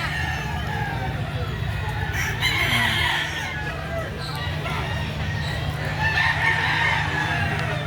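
Roosters and young stags at a gamefowl market behind SM Lipa, Batangas, crowing repeatedly and clucking over a steady low hum, with voices talking in the background.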